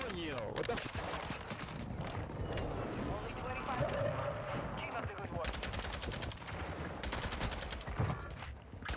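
Rapid gunfire rattles in the Warzone 2 video game at Vondel Park, with repeated bursts and shots mixed under near-constant talking by a player.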